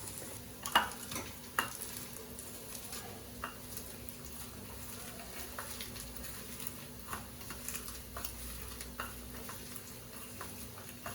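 An egg fries in a home kitchen pan with a soft, low sizzle running throughout, broken by scattered light clicks and taps of a spoon stirring, fairly quiet and with no one speaking.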